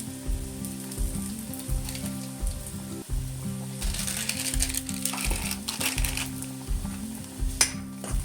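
Cumin and spices sizzle steadily in hot oil for a dal tempering, a continuous crackling fry with occasional clinks of a utensil against the pot and a low steady hum running underneath.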